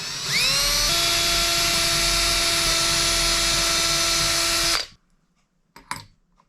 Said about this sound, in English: I'm going to pre-drill some holes first.